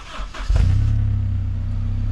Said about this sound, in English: I'm going to give it a start up, and you can hold it and see what the car sounds like.